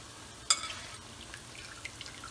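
Aloo palak cooking in a pan as more spinach is added: a soft drop is followed by a low, steady sizzle close by, with no talking.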